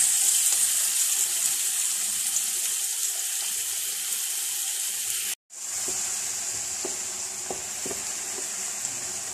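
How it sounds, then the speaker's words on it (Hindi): Water runs steadily from a tap into a pan of spiced tomato for chicken kofta, a soft continuous hiss, briefly cut off midway, then resuming with faint clinks and sizzling. "थोड़ा सा पानी ऐड करेंगे हम"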